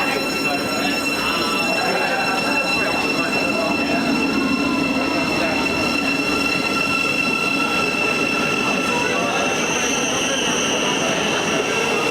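Thameslink train pulling into Brent Cross West station in London, a steady loud rail rumble with high wheel and brake squeal lines running throughout, the hum swelling and easing as carriages pass close by.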